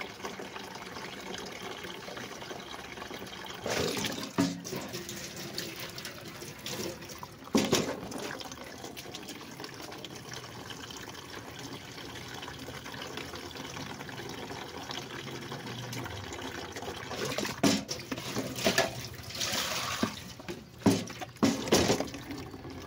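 Water runs and splashes while lemongrass is moved into a pot outdoors. A continuous trickling wash is broken by a few louder splashing bursts, with wind noise in the background.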